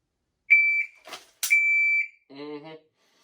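Two sharp electronic shot timer beeps during dry-fire draw practice, each a clear steady tone, with a brief click or shuffle between them and a short voice afterward.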